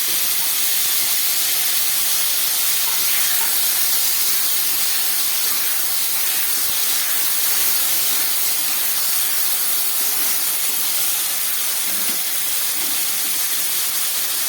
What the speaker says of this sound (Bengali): গোটা হলুদ বেটে রেখেছি একটু পাতলা করে, সেই হলুদের জলটা দিয়ে দিচ্ছি